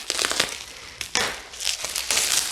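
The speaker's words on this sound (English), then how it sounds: "they put all their stuff in this bubble wrap" Close, crackly crinkling of bubble wrap packaging being pulled and handled, in several loud bursts with no talking.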